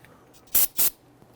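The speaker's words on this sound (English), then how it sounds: "Give it a quick spray with some solvent." Two quick bursts of aerosol solvent spray hiss close by on a Dodge Charger front brake caliper, one right after the other, then quiet.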